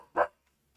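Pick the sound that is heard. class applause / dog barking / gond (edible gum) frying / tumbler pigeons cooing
dog barking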